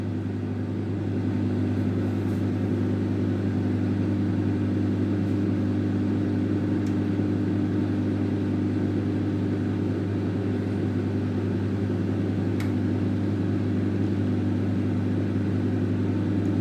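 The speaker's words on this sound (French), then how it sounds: "Donc vous voyez bien comment ça tourne là-dedans, dans le micro-ondes" A microwave oven runs with a steady, unbroken low hum while chikwangue (kwanga cassava bread) turns inside. The drone is constant and even, with faint clicks and no talking.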